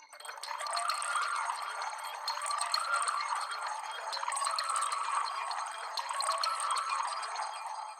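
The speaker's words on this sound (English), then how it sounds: "So it's the same keys, but this time with a grain delay on it," A keys layer run through a pitched-up grain delay makes a dense, shimmering texture of tiny chopped fragments, high and glittering, with the low end absent. It rolls on steadily and moderately loud without pause.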